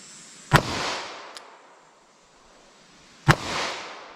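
Two sharp, loud 10mm Auto pistol shots fired with heavy bear-load ammunition, about three seconds apart, each a hard crack followed by a short rolling outdoor echo.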